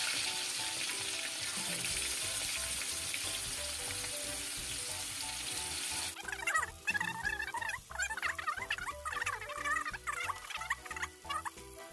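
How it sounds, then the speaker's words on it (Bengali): Chicken pieces go one by one into hot oil for a homemade chicken biryani, giving a steady loud sizzle that turns into sharper crackling and spattering bursts partway through, with no voices. "এবারে আমি এর মধ্যে চিকেনগুলোকে একটা একটা করে আস্তে আস্তে তেলের মধ্যে দেবো।"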